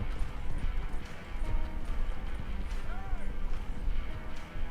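Horse hooves clip-clopping in the video game Red Dead Redemption 2, a soft, steady walking rhythm under low ambient game sound and quiet talk.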